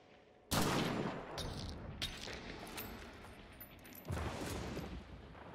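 Gunfire in Hunt: Showdown, a shooter video game, with a loud burst of shots followed by sustained rattling fire and another heavy volley near the end, with no talking.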